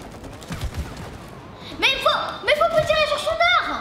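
Rapid gunfire bursts aimed at the wasp queen boss in the co-op game It Takes Two, sounding as close, repeated shots over continuous game music and effects, with a player's voice talking.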